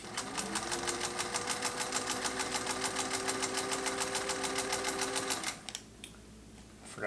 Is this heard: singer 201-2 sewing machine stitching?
yes